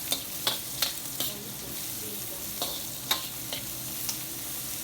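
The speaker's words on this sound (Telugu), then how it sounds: "ఒక హాఫ్ స్పూన్ సాల్ట్ వేసేసి జస్ట్ ఒక్కసారి కలుపుకుందాము" Gobhi (cauliflower) fries in a pan with salt for a Bangalore street-food dish, a soft continuous sizzle punctuated by several crisp spatula scrapes and taps at irregular intervals.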